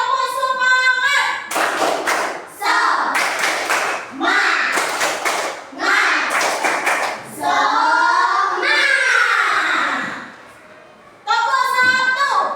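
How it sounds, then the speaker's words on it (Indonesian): A school class claps in a rhythmic chant routine, bursts of sharp unison claps alternating with children's group chanting, loud and close, several rounds in a row. "kita tepuk semangat dulu ya"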